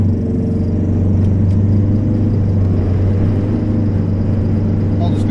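A Toyota Estima Lucida Charme minivan engine pulls under full acceleration in non-overdrive, a loud, steady droning rumble that holds throughout without a break.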